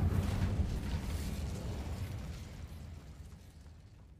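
Incendio fire spell cast in a video game, a loud fiery whoosh and rumble at the start that slowly fades away over several seconds, with no voices.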